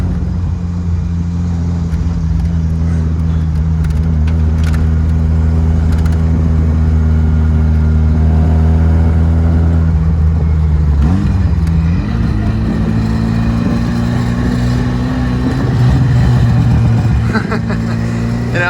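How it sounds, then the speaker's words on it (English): A 1982 Fiat Spider 2000 Abarth with its original burble exhaust tune rumbles steadily at close range, a deep, loud drone that briefly dips and then swells into a higher rev near the end. "we'll just listen to this exhaust."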